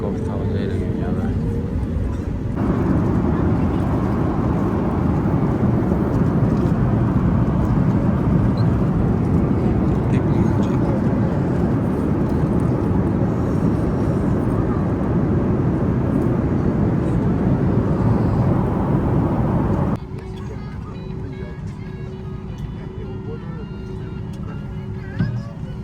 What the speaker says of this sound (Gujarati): પ્લેન ટેક ઓફ થવા જઈ રહ્યું છે હવે.